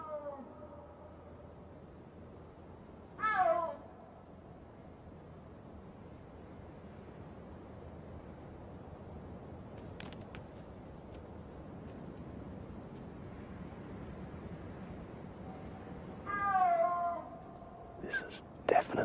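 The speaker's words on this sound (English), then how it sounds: "If they're like other big cats, they may call like this for hours" A snow leopard in a mountain valley gives two drawn-out, wavering calls several seconds apart, distant against a steady windy hush.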